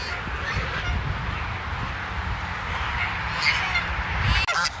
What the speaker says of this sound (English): We brought home 2 brown Chinese geese and 1 white Chinese goose.